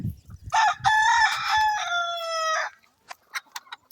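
Laying hens in a root cellar, one drawn-out crowing-like call close by, then a few short clucks, with softer clucking before it.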